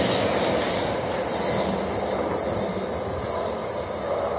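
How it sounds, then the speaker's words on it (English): A Class 444 electric multiple unit in old South West Trains livery runs fast through Clapham Junction, its steady loud rumble and wheel noise filling the whole stretch without a break. "we've got a fast train coming through,"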